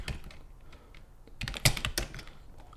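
Quick typing on a computer keyboard, close and moderately loud key taps in an uneven run, growing busier toward the middle with one sharper strike.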